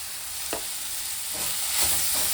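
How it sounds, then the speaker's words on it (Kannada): Grated coconut is added to a hot sizzling pan while cooking Kannada mutton head sambar, with a soft steady sizzle and a few brief scraping stirs of a spoon, close and fairly quiet. "ಇವಾಗ ಕಾಯಿ ತುರಿ ಹಾಕ್ತಾ ಇದ್ದೀನಿ"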